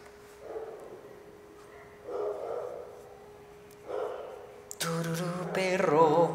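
A dog barks and snorts indoors in short bursts, three brief separated outbursts followed by a louder, longer run of barking at the end, fairly close with no speech.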